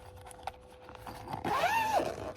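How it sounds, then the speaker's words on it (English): A small carrying bag for an outdoor tripod LED work light is unzipped in a single quick, close zipper pull, preceded by light handling rustles. "Let's unzip that."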